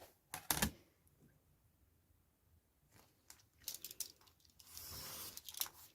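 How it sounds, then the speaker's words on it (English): Scissors snipping paper while a Halloween journal is decorated, a few short sharp cuts and crinkles, close and fairly quiet, with soft rustling between them. "Let me just snip those."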